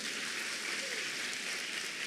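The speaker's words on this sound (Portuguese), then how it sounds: "Dá uma salva de palmas aí para Jesus." A church congregation claps together, producing a steady, fairly quiet wash of applause that fills the moment evenly without pauses.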